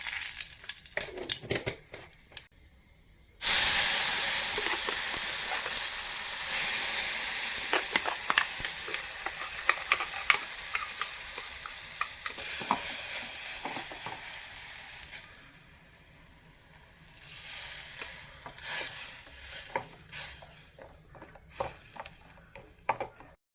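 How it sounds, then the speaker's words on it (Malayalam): Mustard seeds and a dried red chili sizzle loudly in hot oil, a sudden bright frying hiss with scattered popping and crackling that slowly fades over about twelve seconds, followed by soft stirring and kitchen clatter. "കടുക് താളിച്ചു കൊടുത്തു."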